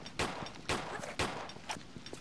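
Gunshots from a Tomb Raider III game, four or five sharp cracks at roughly half-second intervals, fairly faint and dry over a low background, with no talking.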